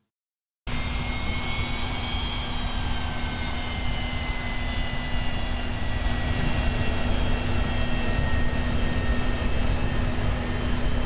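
A secret CIA airplane's engine in the video game Yakuza 3 drones steadily after a brief silent start, a loud continuous jet-like roar with a low sustained hum that grows slightly stronger toward the end.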